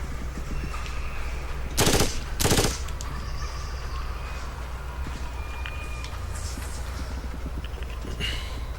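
Machine gun fire in the Xbox shooter Far Cry Instincts: two short, loud bursts stand out against a steady wash of game ambience, with softer distant shots and beeps around them.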